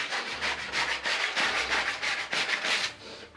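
Sandpaper rubbing back and forth over the painted shell of an airsoft clone trooper helmet, stripping carbon and scoring; steady close scratchy strokes in a quick repeating rhythm, with no voice.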